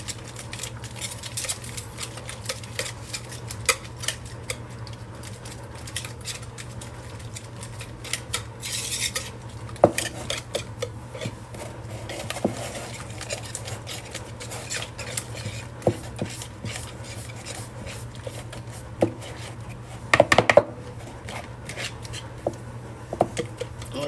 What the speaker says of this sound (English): All right, so then I'm going to stir this together.